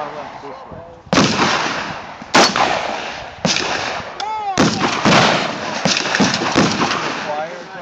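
AR-15 rifle shots crack out one at a time at an outdoor range, five or six loud, sharp reports spaced about a second apart, each with a ringing decay, while people talk between shots.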